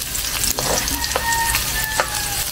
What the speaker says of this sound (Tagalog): Pwede naman sabay na yan kaya lang medyo papulay natin yung sibuyas